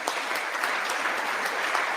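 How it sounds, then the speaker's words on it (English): An audience applauds during President Biden's address to Congress, a dense, steady wash of clapping from a large crowd filling the room without letting up. "He's clapping."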